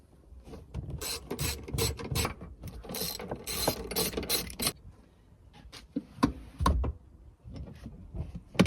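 Seats being removed from a Vauxhall Zafira B, close clicks, scrapes and mechanical rattles in uneven bursts as the seat frames and latches are worked loose, with quieter gaps between.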